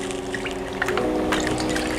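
Worcestershire sauce being poured onto oxtail in a home kitchen, a short close trickle and splash of liquid lasting a couple of seconds over a low background hum.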